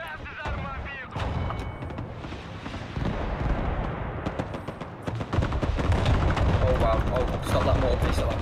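Gunfire and mortar blasts in the war game Broken Arrow, a busy mix of rattling shots and heavy booms under voices speaking, building into a dense, sustained barrage toward the end.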